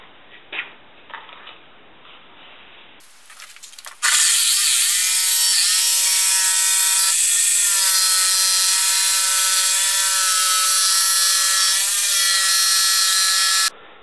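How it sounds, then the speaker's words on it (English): A jigsaw cuts through two layers of 1/2-inch plywood to shape a fishing landing net pattern, a loud steady high-pitched buzzing whine that runs for about ten seconds after a few quiet handling knocks. "Now I'm going to cut out the outside pattern for the biggest fishing net with this jigsaw right here."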